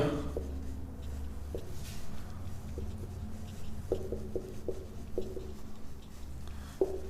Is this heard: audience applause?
no